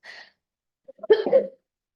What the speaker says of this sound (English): Sorry, kind of a slight cough.